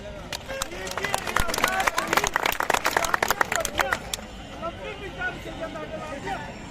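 An outdoor crowd at a dangal wrestling match at the Shiv-Paarvati fair in Moungri claps in a lively burst of dense applause that fades after a few seconds into murmuring voices.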